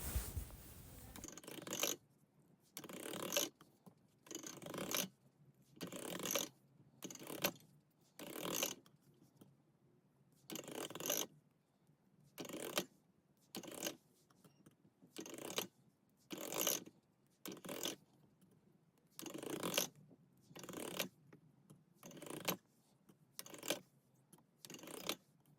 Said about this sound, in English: I'm going to pop them through the pasta machine to get them all the same thickness